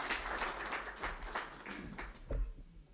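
Audience applause welcoming a speaker to the stage at a formal evening event, a steady wash of many hands clapping for a few seconds before fading.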